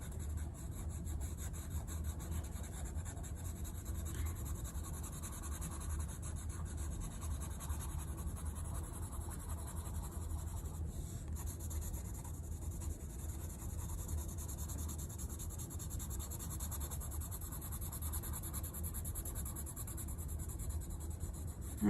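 A pencil shades across paper in a drawing lesson, a soft steady rubbing and scratching that runs continuously for the whole stretch, close and quiet with no talking.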